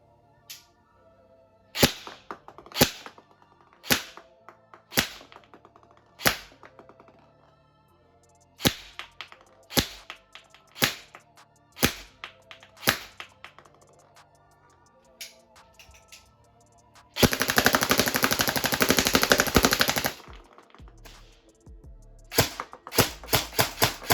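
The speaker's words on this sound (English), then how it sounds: "I'll be shooting 5 on the top left target and another 5 on the top right target" An airsoft gun fitted with an Acetech Lighter BT tracer unit fires single semi-auto shots at targets: two evenly paced groups of five sharp, loud cracks, then a burst of steady hissing noise, then a few more shots.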